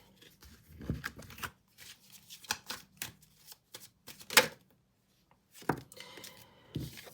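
Tarot cards are handled in short, sharp bursts: quick snapping riffles and flicks separated by quiet gaps, close and fairly soft.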